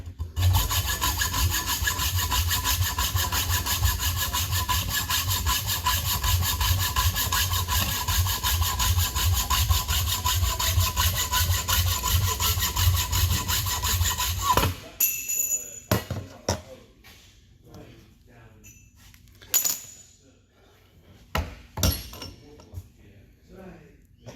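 A hand saw rasps through wood in rapid, steady back-and-forth strokes for about fifteen seconds during a gooseneck repair at a marina, followed by scattered knocks and clatter.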